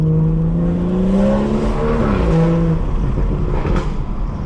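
A car engine drones loudly up close, its exhaust note climbing and dipping as it revs, then settling into a rough rumble.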